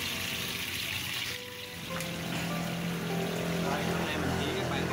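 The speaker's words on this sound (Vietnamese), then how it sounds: "Rồi mình xả nước cho nó đỡ lạnh đi." Tap water runs steadily over a whole cleaned chicken in a kitchen sink, rinsing it before roasting, a continuous close hiss with a brief dip and some talk in the background.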